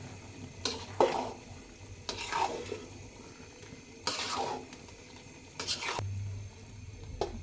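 Chicken biryani stirred in a pot, with a ladle scraping and churning the moist rice in repeated bursts about every second or two over a soft, steady background hiss.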